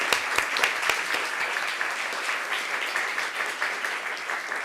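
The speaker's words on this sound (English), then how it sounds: "We'll give him a round of applause." Attendees at a city council meeting applaud a service award recipient, a few sharp early claps swelling into steady, moderately loud group clapping that continues evenly to the end.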